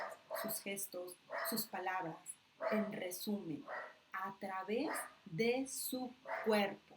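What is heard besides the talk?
small female dog barking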